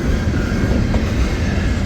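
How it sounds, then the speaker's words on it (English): A westbound BNSF Z freight train passes close by on track 2, a loud, steady rolling rumble of wheels and railcars that fills the whole moment without a break. "So we've got a westbound BNSF Z train"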